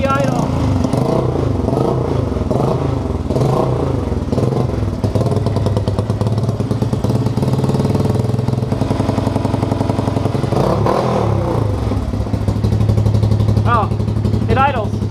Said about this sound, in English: Oh, it idles.